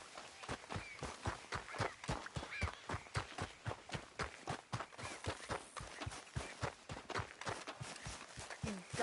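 Horse hooves clip-clopping at a steady walking rhythm in the video game Red Dead Redemption 2, close and fairly quiet, a continuous even beat with no talk.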